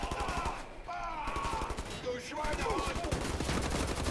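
Assault rifle fire in the Wolfenstein: The New Order video game, rapid sustained automatic bursts, loud and close, running almost continuously with brief gaps, with game voices and effects mixed in.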